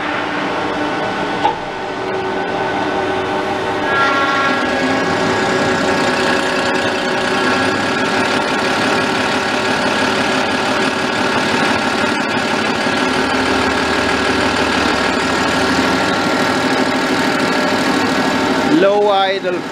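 Diesel fuel injection pump, an 8 mm Superstroker, runs at low idle on a test bench, giving a loud continuous mechanical whine with a steady rhythmic ticking that holds throughout, briefly rising in pitch near the end.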